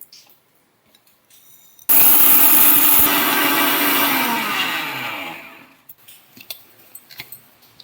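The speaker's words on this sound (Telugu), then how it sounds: "మిక్సీలో వేసుకున్నాం" A kitchen mixer grinder grinds roasted mustard and fenugreek seeds into powder, a loud steady whirring roar that starts abruptly and runs for a few seconds before winding down and cutting off, with no voices.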